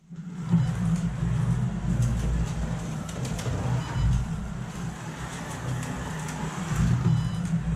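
A Carrera slot car runs around its track with a fairly quiet, steady electric whir and low rumble, swelling slightly as it passes, with occasional small clicks and no talking.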